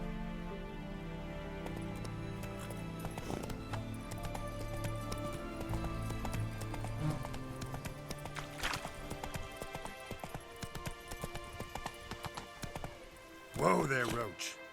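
Hooves of the horse Roach in The Witcher 3: Wild Hunt, a steady clip-clop of walking then trotting up close, with game music and a voice speaking over it, ending in a louder snort or whinny.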